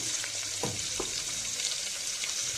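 Onions fry in hot oil in a pan, hissing and sizzling steadily while a spoon stirs them with a few scraping strokes, heard close with no talk.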